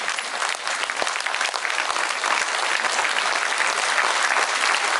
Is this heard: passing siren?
no